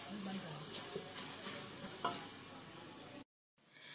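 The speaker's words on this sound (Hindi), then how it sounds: "इस पेस्ट को हमने अब इस मसाले में अच्छी तरह से भून लेना है" Ginger garlic chilli paste fries in a masala for shalgam sabzi, a soft steady sizzle under occasional stirring scrapes, cutting out briefly near the end before resuming.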